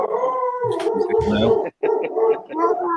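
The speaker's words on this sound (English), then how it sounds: "some of his dogs are not happy" Several dogs howl and whine together nearby, long wavering cries broken by yips and barks, loud and sustained with one brief pause midway.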